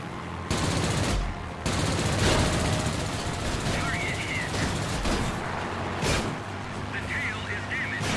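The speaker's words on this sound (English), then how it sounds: "I've got, what, 3 fighters on my tail shooting at me?" Enemy fighter planes firing machine guns in World of Warplanes, rapid bursts of gunfire crackling over a steady engine drone throughout, with a voice talking over the action.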